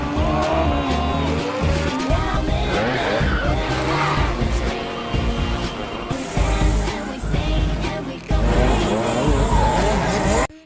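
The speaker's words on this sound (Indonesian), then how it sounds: "Mereka berdua pun akhirnya balapan, di mana dimenangkan oleh Dinan" Race cars in a street race from the 2018 film Big Brother roar and skid, with loud engine revving and tire squeals throughout, blended with a busy soundtrack.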